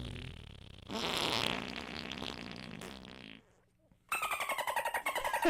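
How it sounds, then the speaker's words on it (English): A fart-like noise plays as a long sputtering blare, then drops briefly to near silence before a rapid run of loud, evenly spaced sputtering bursts. "That is not a fart noise."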